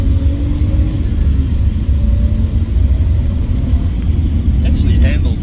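A Nissan Skyline R32 GTS-T with an RB25DET engine drives along, its engine holding a steady, loud low rumble throughout, with faint clicks and a brief higher whine near the end.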